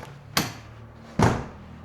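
The door of a sound-deadened Holden Commodore wagon gives two solid thuds less than a second apart, close and muffled, with no talking.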